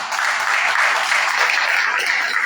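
An audience at a church gathering in Córdoba, Argentina, claps loudly and continuously, a dense sustained applause that stays close and even throughout without a break.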